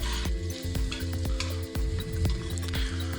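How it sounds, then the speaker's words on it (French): Onions sweat and sizzle in an Instant Pot while a spoon stirs them, with a steady frying hiss broken by regular scraping and tapping strokes close by. "on voit vraiment que maintenant les oignons commencent à bien suer. On continue donc à les remuer"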